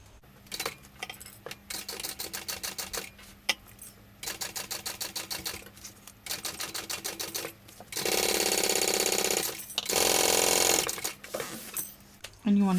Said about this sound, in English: go ahead and sew it at the full seam allowance in the pattern